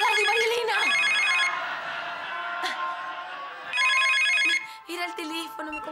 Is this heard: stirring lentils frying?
no